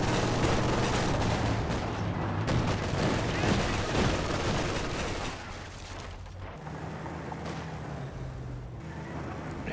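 Dense, continuous battlefield gunfire from a Company of Heroes 2 match, with a machine gun chattering amid steady rattling bursts and booms that ease slightly halfway through, with no voices over it.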